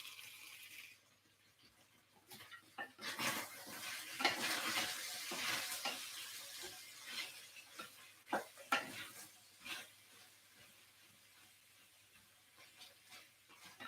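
Close, fairly quiet scraping and clattering rises and falls in uneven bursts as a spoon stirs six lamb chops with onion and capsicum in a sizzling pan.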